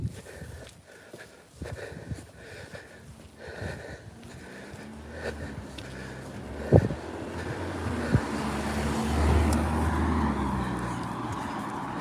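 A car drives past on a quiet early-morning road, its engine and tire noise swelling toward the end, with footsteps and rustling from a dog walk nearby.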